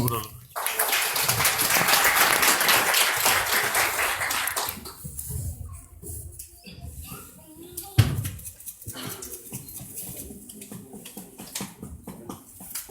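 An audience at a poetry award ceremony claps in a dense, sustained round of applause for several seconds, then fades to scattered claps and murmuring before a voice speaks.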